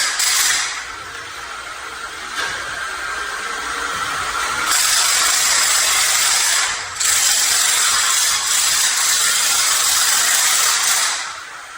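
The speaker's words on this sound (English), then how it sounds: "while we're using the machine to break up the tile" A machine breaking up floor tile during a home renovation makes a loud continuous grinding, rattling clatter. It drops briefly in a few spots but runs almost without pause.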